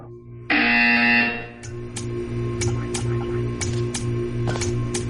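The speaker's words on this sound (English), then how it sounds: "When you hear the buzzer, stare at the art." A loud electronic buzzer from the video game Portal 2 blares for about a second, then stops, leaving a steady hum with a series of light rhythmic clicks.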